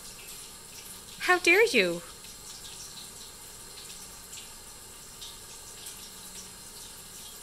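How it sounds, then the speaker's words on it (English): Tap water runs steadily from a kitchen faucet as a soft continuous hiss, with a brief exclaimed phrase spoken over it early on. "That is tap water, sir."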